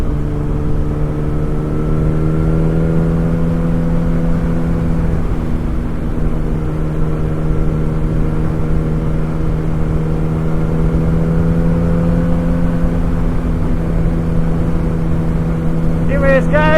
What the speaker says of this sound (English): as I come down this canyon with the beautiful 2008 Yamaha R1 Raven Edition